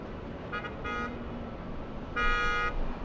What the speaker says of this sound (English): Honks of celebration coming from down below that, or it might be honks of frustration.